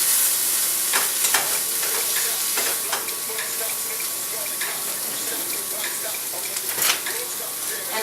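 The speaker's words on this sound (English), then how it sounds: "And give that a good mix around." A veggie dish with fresh red pepper being mixed in a sizzling pan, steady frying hiss with scattered spoon scrapes and clicks, close, with a voice faintly present.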